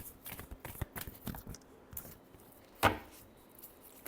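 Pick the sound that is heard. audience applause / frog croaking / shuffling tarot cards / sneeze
shuffling tarot cards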